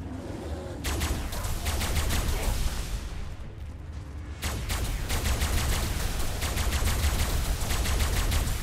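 Weapon fire in the video game Ark, heard as dense rapid bursts of shots across most of the stretch, broken by a brief lull before resuming loud and continuous.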